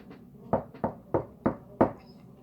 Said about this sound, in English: That's the knock.